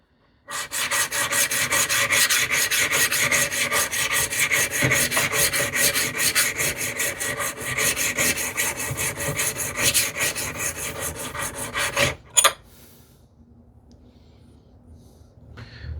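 Iron of a Stanley 78 plane converted to a scrub plane, honed on a sharpening stone in a steady, close gritty rasp of rapid back-and-forth strokes that stops abruptly, followed by quiet.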